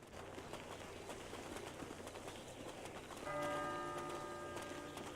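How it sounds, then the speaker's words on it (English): Church-style bells toll within a video game roleplay scene, their ringing tones entering partway through over a soft ambient bed with faint bird-like chirps. "The bells toll for your arrival,"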